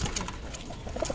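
A homing pigeon coos softly at close range, a few low throaty calls spread over a brief moment.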